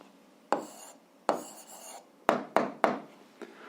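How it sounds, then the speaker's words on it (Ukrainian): Pen writing out an answer to an algebra exercise on paper, a handful of short close scratching strokes with quiet gaps between them and no talk. "Ну що ж, записуємо відповідь, пишемо відповідь."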